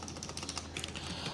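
Steady typing of router configuration commands on a computer keyboard during a Cisco EIGRP networking lab, a continuous run of light key clicks at low level with no talking.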